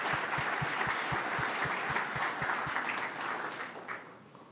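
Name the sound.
applause for professional service providers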